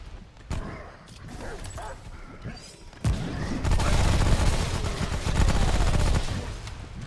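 SMG fire in the video game Remnant: From the Ashes, starting with scattered shots and impacts, then a loud sustained rapid burst of automatic gunfire with a dense rattling roar.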